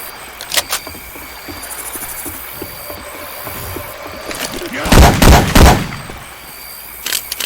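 Syphon Filter weapon effects in Left 4 Dead 2: a few scattered gunshot cracks, then a loud cluster of heavy blasts midway and another shot at the end, with game ambience between.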